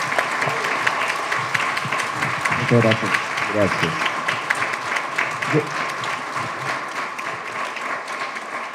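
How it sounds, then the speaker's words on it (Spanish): An audience applauds artists Joaquín Cociña and Cristóbal León at Sala Nemesio in La Reina, Chile, a steady roomful of clapping that carries throughout while a voice speaks briefly over it. "démosle un tremendo y fuerte aplauso"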